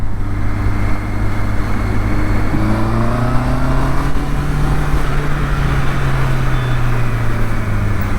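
A Benelli 502 motorcycle engine running close and loud, its steady drone rising and falling in pitch as the rider revs and shifts, with no talk over it.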